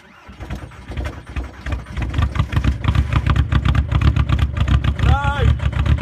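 A Volkswagen TDI diesel engine cold-starts after its glow plugs warm and settles into a loud, rough idle with rapid knocking pulses that build up, while a voice briefly speaks over it.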